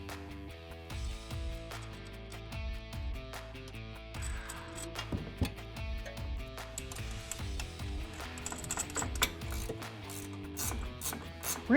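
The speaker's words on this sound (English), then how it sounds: "Now you're going to want to torque these nuts to the specified number in the ReadyLift instructions." A ratchet wrench tightens the nuts on a ReadyLift suspension lift kit being fitted to a vehicle. Rapid, continuous pawl clicking rises and falls in bursts of strokes, close and clear, with no voices.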